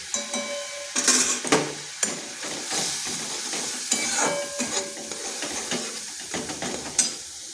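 Okra sautés in a pan with chili, cumin and turmeric powder, sizzling steadily while a spoon stirs and scrapes against the metal in irregular bursts, close and fairly loud.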